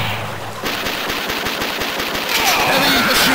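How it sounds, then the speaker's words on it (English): Heavy machine gun fire in the Metal Slug 5 arcade game, a rapid, continuous stream of shots, loud and rhythmic, amid layered game sound effects and music. "Heavy machine gun!"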